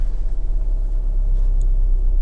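A Honda HR-V 1.6 i-DTEC diesel idles as a steady, low, close rumble with no other sounds.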